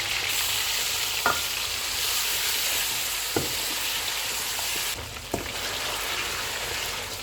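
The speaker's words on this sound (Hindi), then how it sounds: "मटन का कलर चेंज होने तक इसको पकाएंगे।" Mutton with ginger-garlic paste sizzles steadily in a hot pan for a korma, a constant loud frying hiss broken by three or four scraping stirs of a spoon, no voices over it.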